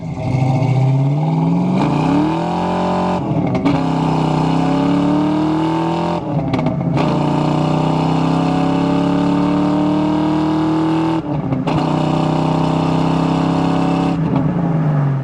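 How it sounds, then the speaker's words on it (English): A 1991 Ford Mustang LX hatchback with a 5.0-liter V8 and five-speed manual accelerates hard on a test drive. The loud, close engine rises in pitch through each gear, with brief dips at the shifts. "let's go ahead and have some fun with this 5-liter here."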